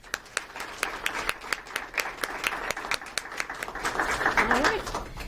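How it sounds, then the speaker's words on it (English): Applause from an audience at a workplace recognition ceremony, a mix of crowd clapping with distinct louder claps, swelling slightly toward the end while voices and chatter rise underneath. "So let's give you a round of applause."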